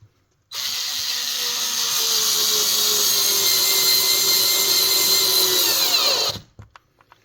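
Ryobi multi-head screwdriver with a Torx bit driving a 1 1/4 inch screw into wood, a steady motor whine lasting about six seconds with a slowly dropping pitch, then cutting off abruptly.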